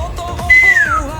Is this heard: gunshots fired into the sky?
no